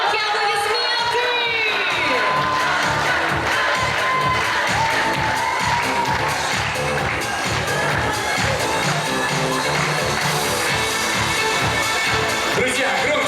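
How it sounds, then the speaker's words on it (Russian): A crowd at a university beauty pageant cheers and shouts continuously and loudly, voices overlapping in a sustained roar of excitement with some whoops. "Громкие аплодисменты!"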